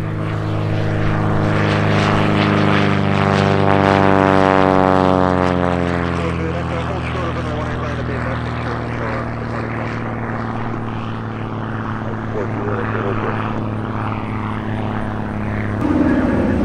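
A propeller airplane takes off at EAA AirVenture Oshkosh: a loud, droning engine roar with strong humming tones swells near, then slowly fades as it departs, with voices faintly audible.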